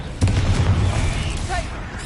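A Confringo spell explodes in a Harry Potter video game. A heavy booming blast with a thudding low rumble rolls for about two seconds, loud and close, with a faint voice-like tone near the end.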